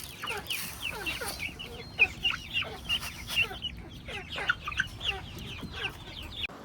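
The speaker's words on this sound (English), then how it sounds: "these are the chickens" Several chickens cluck and chatter nearby in short, scattered calls, with a few sharper squawks over a quiet background.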